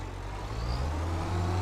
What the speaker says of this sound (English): Great sounding tractor engine, lovely.